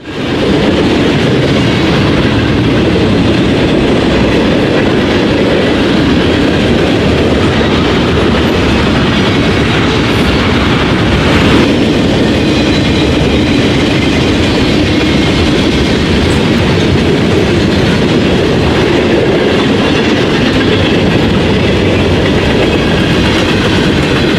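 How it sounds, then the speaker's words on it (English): An eastbound Norfolk Southern manifest freight train, led by two GE locomotives, rolls past at Edgerton. It makes a loud, continuous rumble with steady clickety-clack from the wheels and rail cars, close and unbroken for the whole span. "Our second train at Edgerton was the eastbound manifest train 310, with 2 horsehead GEs for motive power."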